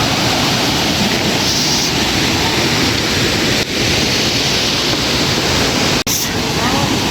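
Tinuy-an Falls in Hinatuan roars as a steady, loud wall of falling water, constant and close throughout, with some wind buffeting the microphone.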